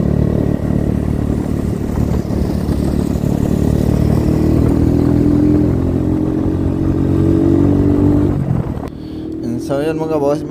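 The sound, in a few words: Kawasaki Barako 3 motorcycle riding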